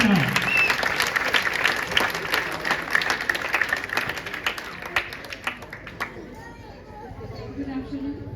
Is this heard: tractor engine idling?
no